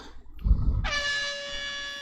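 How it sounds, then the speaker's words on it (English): After a low thump, an air horn blares a single sustained, bright blast that holds steadily for about a second, loud and close. "I got an air horn for whenever cool stuff happens."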